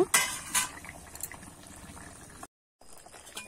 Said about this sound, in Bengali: আমি কিন্তু এবার ঝোলটাকে ভালো করে ফুটিয়ে নেব।